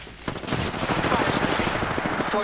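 Continuous gunfire in a multiplayer shooter game, rapid bursts of shots layered with game noise and brief voice, dense and loud throughout.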